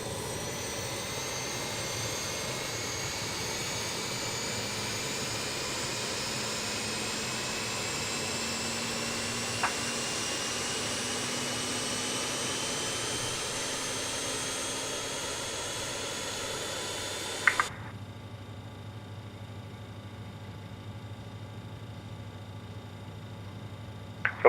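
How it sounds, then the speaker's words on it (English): Engine number four of a four-engine regional jet spools up in Microsoft Flight Simulator 2020, a steady whine with slowly rising tones that cuts off abruptly near the end, leaving a quieter hum. "And we are now starting up engine number 4."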